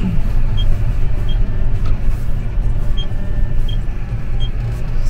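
A John Deere 6R250 tractor driving over old cobblestone paving in the German Börde, heard from the cab. A loud, steady engine rumble and road noise continue throughout, with faint, regular high ticks.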